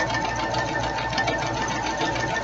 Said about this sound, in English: I haven't got my sewing machine going very fast because I want to stick to the 1/4 inch seam allowance